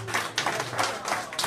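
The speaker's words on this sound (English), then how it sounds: "give him a round of applause" Audience applause for a performer at a Verizon Center evening event, a steady wash of clapping rising in a few swells over a low hum, with no talking.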